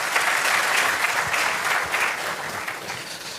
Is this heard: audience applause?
yes